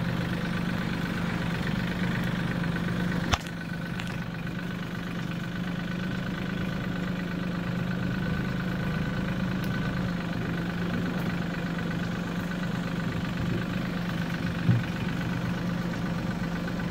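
A tractor engine idles continuously at close range outdoors near woods, a low even rumble with one brief sharp knock partway through.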